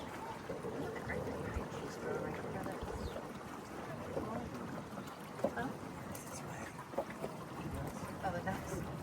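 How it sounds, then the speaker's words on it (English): Ducks quack faintly in short scattered calls over a soft outdoor background of canal water and wind, heard from a boat, with people talking nearby. "Oh, the ducks."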